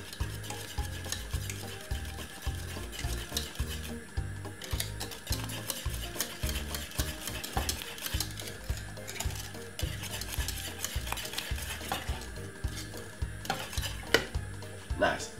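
A spoon stirs thick cornmeal porridge in a pot, giving repeated close scraping strokes in a steady rhythm with a light bubbling sizzle underneath and no talk.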